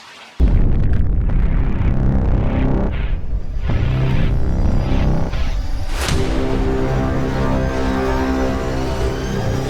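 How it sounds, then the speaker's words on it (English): A nuclear explosion sound effect erupts suddenly into a massive, sustained roaring boom, with a thick rumbling blast and a sharp swell midway through that continues at full loudness to the end. "Thus, in 2024 BCE, there was a nuclear explosion in the Middle East region."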